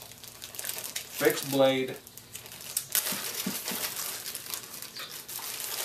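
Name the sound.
plastic bag crinkling around a Buck 119 knife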